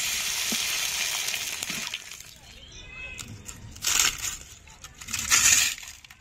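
Sabudana papad, a thin green sago wafer, frying in hot oil with a steady hiss and sizzle, swelling into louder bursts of crackling twice near the end.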